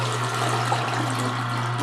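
Water running steadily from the spout of a slow juicer as it cleans itself after pressing oranges, a continuous close pouring stream with a faint hum underneath.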